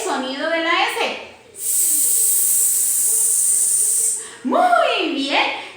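A voice imitates the letter S with a long, steady snake-like hiss, loud and alone, set between stretches of Spanish speech before and after.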